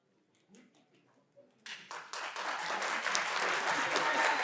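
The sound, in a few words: audience clapping at meeting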